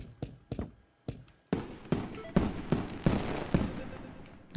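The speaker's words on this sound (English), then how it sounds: "I'm gonna play some fireworks for Jilly." A fireworks sound effect plays during a live stream: about a dozen sharp bangs, first sparse, then in a quicker irregular volley, each followed by a brief crackling tail, moderately loud with no talking.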